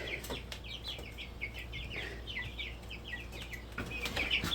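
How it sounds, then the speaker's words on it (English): Chicks cheeping and clucking in quick, high chirps close by, with a few wing flutters and soft rustling around them. "I wanted to introduce you to the baby chickens."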